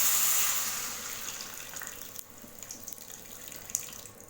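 Cooked lentil water is poured into a pan of sautéed vegetables for okra sambar: a steady liquid stream, loudest at the start and tapering off as the pour continues.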